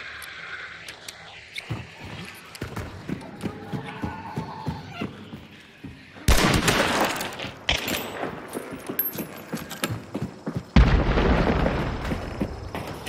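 A bomb blast in the first-person shooter Hunt: Showdown, a loud sudden boom midway that jumps the level and leaves a sustained rumbling noise, with another sharp burst later amid clattering game sounds and occasional talk.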